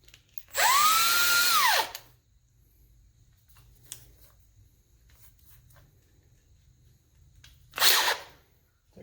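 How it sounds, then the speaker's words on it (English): A drill set to a slow speed bores into a zero-turn mower hitch, giving a loud two-second whirring run that rises and falls, then quiet with small ticks, and a second shorter burst near the end. "So next, we'll take our drill, make sure our settings are right."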